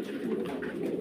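Fancy pigeons at a pigeon farm give a brief, steady run of low cooing, moderately quiet and unbroken, with no voices over it.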